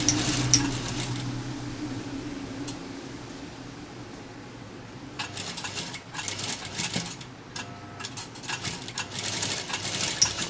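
A sewing machine stitches a three-layer fabric mask in soft, intermittent runs of rapid ticking over a low background hum, with faint handling sounds in between.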